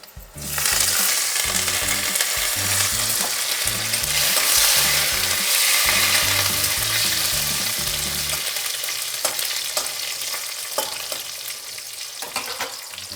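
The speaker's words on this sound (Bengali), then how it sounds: "এর মধ্যে আমি এখন দিয়ে দেব কিছু কারি পাতা ফোড়ন" Curry leaves tempering in hot oil over high flame in a pan that already holds fried brinjal, giving a loud, dense sizzle that is strongest early and eases slightly, with a faint steady hum underneath.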